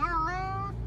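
A cat on a trip to the vet lets out one drawn-out, wavering meow, close and clear, lasting under a second with no voices over it.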